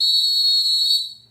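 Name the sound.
referee whistle blown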